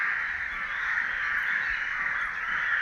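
Crows cawing near a temple at dusk, a steady continuous chorus of calls holding at an even loudness with no talk.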